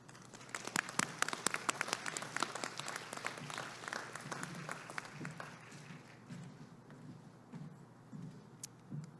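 A graduation audience breaks into applause for an incoming speaker, a dense burst of many hands clapping that gradually thins and fades out over several seconds, moderately distant in a hall.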